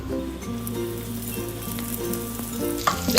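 Finely chopped garlic and cumin seeds fry in oil for methi chaman, a continuous close sizzle with light crackling and a few spoon knocks near the end.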